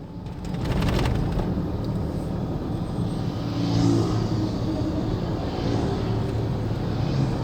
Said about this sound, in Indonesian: Jalan Jenderal Sudirman tampak begitu lengang, hanya sedikit pengendara